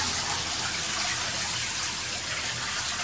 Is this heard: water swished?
yes